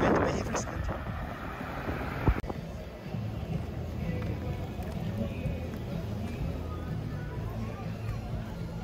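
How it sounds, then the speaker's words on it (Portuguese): Sea breeze blowing at a shallow bay beach in Enseada, São Francisco do Sul, a steady rushing wind buffeting the microphone throughout, with people talking nearby. "Vento bem refrescante."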